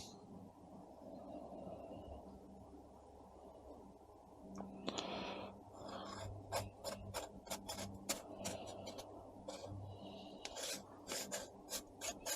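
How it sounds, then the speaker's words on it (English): A chrome bezel is screwed onto a Smiths speedometer during a BSA motorcycle rebuild, with a gritty rasping rub of threads followed by a run of sharp, irregular metallic clicks up close. "we're just going to try and screw this bezel on."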